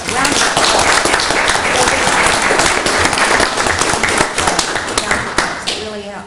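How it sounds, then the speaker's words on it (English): Loud, close applause from a township trustee meeting audience honoring winners, dense rapid clapping for several seconds before tapering off as a voice returns. "let's give all of these people a round of applause"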